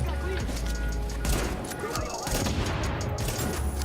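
Gunfire in the video game The Division, dense fusillades of shots and booms going on steadily, with a voice talking over the shooting.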